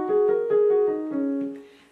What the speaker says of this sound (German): und dann spielt ihr einfach die schwarzen Tasten.